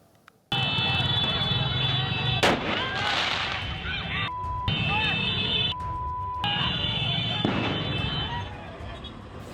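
Sharp firecracker bangs pop repeatedly during a street clash between two mass organizations over a market, with shouting voices and a shrill alarm-like tone sounding intermittently.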